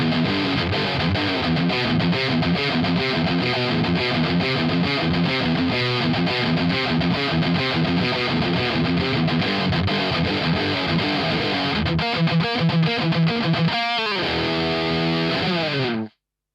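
Heavy, thrashy metal riff played on a Jackson electric guitar, loud and continuously distorted with chugging palm-muted rhythm and fast picked passages, cutting off abruptly at the end.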